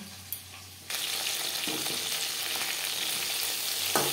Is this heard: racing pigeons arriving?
no